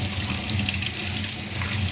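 Tap water runs steadily into a sink as jasmine and rose flowers are rinsed for a stir-fry, a continuous close splashing stream with no voices.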